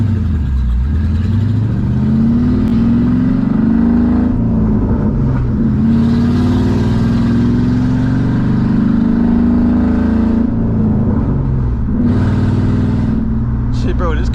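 A 2007 Ford Mustang GT V8 drives along, its engine droning steadily and rising in pitch through the gears. The sound is loud and close, with people talking over it.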